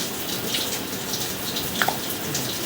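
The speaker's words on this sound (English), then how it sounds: "Make sure you can hear the water a little bit louder now." Water runs steadily from a tap inside a house in Hamilton, Ohio, giving a continuous close hiss with a couple of brief clicks near the end.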